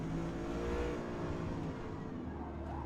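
A C8 Corvette in the Forza Motorsport racing game roars loudly and continuously, its engine note droning at high revs and then dipping slightly as it eases off, with no voices over it.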